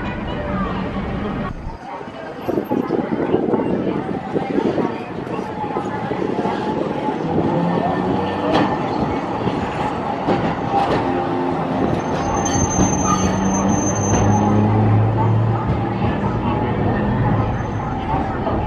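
A Sapporo city streetcar at the Nishi-4-chome tram stop: a steady rumble of the running tram with sharp wheel squeal and metallic tones, while voices and station bustle murmur in the background.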